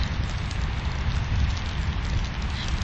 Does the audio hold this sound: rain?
yes